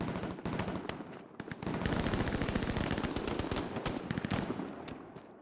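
Rapid machine-gun bursts from a World War II shooter game, a long run of loud, evenly spaced shots with short gaps, close and dense, with no talking.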